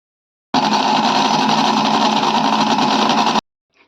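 An electric blender grinds avocado for a milkshake in one steady, loud whirring run of about three seconds that starts and stops abruptly, with no voices.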